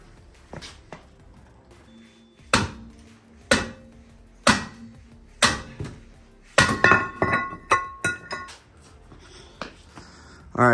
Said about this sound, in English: I'm just gonna whack this thing until it comes flying off of here